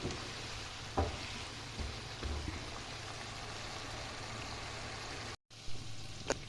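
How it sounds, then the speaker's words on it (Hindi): Masala and chicken feet fry in a pan with a steady, close, dense sizzle, broken by a few soft stirring knocks and one brief dropout near the end; no one talks. "ये देखिए मसाला कितनी अच्छी तरह से भून गया है और ये देखिए साथ में पंजे भी अच्छी तरह से भून चुके हैं।"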